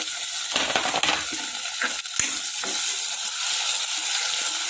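Hot oil sizzles loudly and continuously as a tadka tempering is made in a home kitchen, with a few metallic clinks and scrapes of a utensil against the pan.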